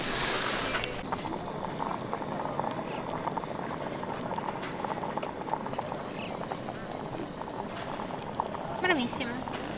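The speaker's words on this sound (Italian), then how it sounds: "Oh, come bolle." Food bubbles and boils in a pot outdoors on a mountain trail with a view of the Marmolada, a dense steady gurgle with wind noise, while people talk nearby.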